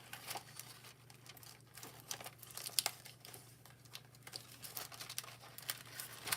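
Foil paper, a pastel rainbow ombre sheet, crinkles and rustles steadily while Easter egg shapes are cut out of it, with close, irregular soft crackles and snips throughout and no talk.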